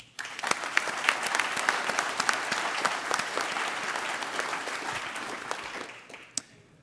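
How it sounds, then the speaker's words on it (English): At an alumni awards dinner, an audience breaks into a round of applause for a table of team members, quick to start, dense and steady, then thinning out after about six seconds. "So I just want to give them a round of applause."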